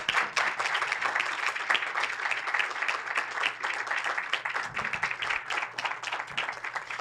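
Steady applause from an audience at a Brazilian design forum award ceremony, dense continuous clapping of a crowd, moderately loud and sustained throughout.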